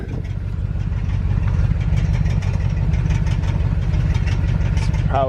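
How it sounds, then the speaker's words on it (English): A car engine with a loose exhaust idles steadily nearby with a low, uneven rumble and a rattling, knocking undertone, with a brief voice at the very end. "Sounds like an exhaust is loose."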